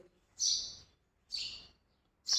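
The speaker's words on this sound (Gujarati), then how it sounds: "જો ચકલી અત્યારમાં આવી ગઈ હોય મસ્ત કુ કુ કુ કરે" A sparrow chirps three times, short bright calls spaced about a second apart against near silence.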